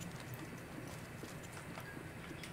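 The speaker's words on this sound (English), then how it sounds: "I hear footsteps" Footsteps in the video game Apex Legends: quiet, quick, steady steps that continue throughout over a soft background wash.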